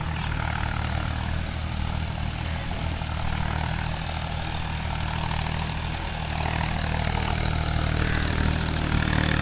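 A tractor pulling a rotavator in fourth gear drones steadily with a deep, constant engine rumble and a broadband mechanical roar, close and loud throughout, with no talking.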